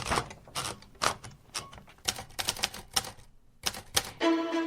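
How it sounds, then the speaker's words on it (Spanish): An old mechanical typewriter clacks close by as a sheet of paper is fed in, with sharp irregular key and carriage clicks in quick bursts and a brief ratcheting roll at the end. "ponemos un folio en la máquina de escribir del abuelo"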